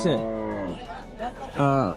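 A cow at a village cattle market lets out loud, close moos, one drawn-out call at the start and another near the end, with voices talking briefly in between.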